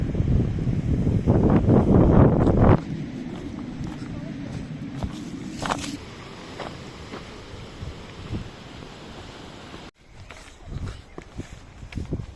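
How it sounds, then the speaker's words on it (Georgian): Strong wind gusts buffet the microphone with a loud, low rumbling roar, heaviest at the start and then easing, while people talk outdoors. "მაგარი ქარი ამოვარდა."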